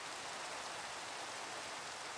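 Rain falling in a modded Minecraft world, a faint, even hiss of steady rainfall with no other sounds or talk over it.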